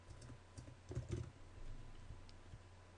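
Keys clatter on a computer keyboard in a short burst of typing, a cluster of quick taps in the middle with scattered clicks before and after, close and fairly quiet with no talking.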